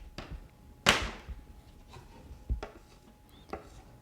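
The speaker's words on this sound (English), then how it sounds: "Now the fun part of this, you can just chop it off right there." A knife chops cleanly through a thin royal icing petal with a single sharp, close tap, followed by a few lighter knocks and handling sounds on the work surface.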